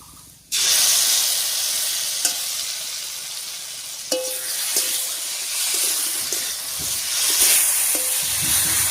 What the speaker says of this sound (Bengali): একবারে রান্নায় দিয়ে দিচ্ছি বাটা মশলাটা